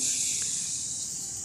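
Poppy seed and sesame paste fries with onions in a pan, giving a steady, close sizzling hiss that barely changes while it is stirred.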